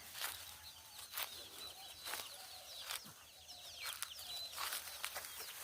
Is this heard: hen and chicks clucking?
yes